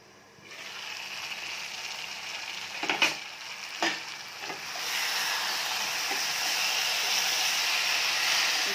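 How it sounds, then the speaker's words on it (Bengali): A pan sizzles and hisses steadily as spices fry, with a few sharp scraping stir sounds partway through before the sizzle swells louder. "মশলাগুলো ভাজা হয়ে যাচ্ছে এটা"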